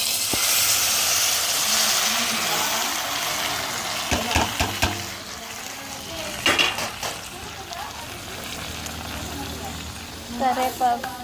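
Tomatoes, onion, green chili and curry leaves fry in a pan with coriander leaves, giving a steady hiss broken by several sharp spoon scrapes and clinks against the pot.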